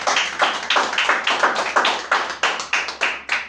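Congregation at a church service clapping in unison, a steady rhythmic beat of about four claps per second, close and loud, with no talk over it.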